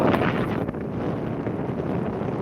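Strong wind by the sea roars steadily across the microphone, a dense, rumbling rush with constant buffeting and no pauses, loud and close throughout.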